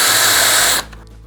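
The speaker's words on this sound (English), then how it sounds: "So we're going to drill a hole first, pilot hole through." A power drill bores a pilot hole through a wooden bird box, a loud steady whirring grind for most of a second before it cuts off abruptly into a quiet room.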